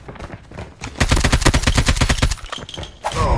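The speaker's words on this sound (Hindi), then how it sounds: "बमबारी" Rapid automatic gunfire bursts from the mobile shooter Call of Duty Mobile, loud and close, a sustained volley of evenly spaced shots lasting about a second and a half before a short pause.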